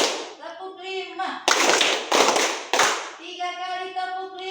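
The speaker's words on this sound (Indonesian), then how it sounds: "tepuk 5," A group claps in unison during a counted clapping game at a lively show, with three loud, sharp bursts of clapping between stretches of a voice calling out the count.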